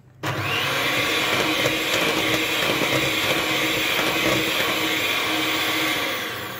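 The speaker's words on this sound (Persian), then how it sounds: "حالا با همزن روشن با دور کند" An electric mixer runs at low speed through cake batter for a traditional Yazdi cake, a steady continuous whir that starts abruptly and holds evenly, close and alone.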